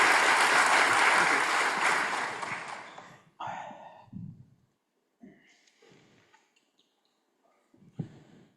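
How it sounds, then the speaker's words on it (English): An audience at an education conference claps loudly for about three seconds, then the applause tapers into scattered claps and a few isolated sounds before quiet. "round of applause as they come forward"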